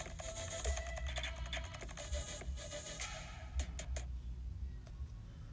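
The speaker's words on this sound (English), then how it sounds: "you got your clip with your keyboard sound." Rapid keyboard typing sound effect, a quick run of crisp clicks and taps at close range with a brief break near the end before a few more keystrokes.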